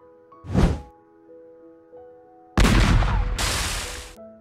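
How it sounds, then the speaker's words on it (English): Shots fired by the computer opponent in Hasbro's Battleship video game: a short booming impact, then a longer heavy explosive burst, loud over a faint background tone. "He's shooting all around the baby ship."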